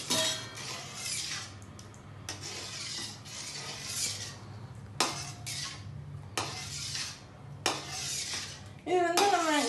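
A spoon stirs sodhi kulambu, a coconut milk curry, in a metal pot, giving several bursts of scraping and clinking against the pot with short pauses between them, close and fairly clear.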